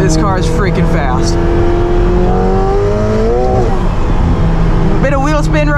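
A 2022 McLaren 720S Spider accelerates hard, its engine climbing steadily in pitch to high RPM with wheel spin, then dropping before revving again, loud and close from the cabin with a low rumbling drone underneath.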